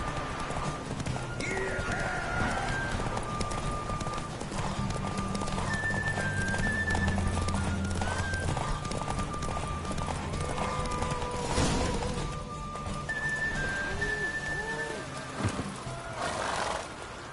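Horse hooves clip-clop at a gallop during a race in the video game Witcher 3, with whinnies and neighs over a busy background of music and game sounds; a voice speaks briefly.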